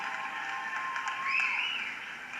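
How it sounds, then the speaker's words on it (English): Fairly faint, steady applause from a boxing crowd after a women's bout, a soft continuous patter of many hands with a thin tonal ring over it. "Let's give these two fighters a tremendous round of applause."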